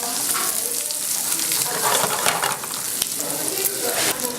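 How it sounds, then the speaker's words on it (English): Bacon sizzles and crackles steadily as it browns in a hot pan, with occasional stirring scrapes under the dense, continuous frying hiss. "We're going to cook the bacon so it starts to get a little bit brown"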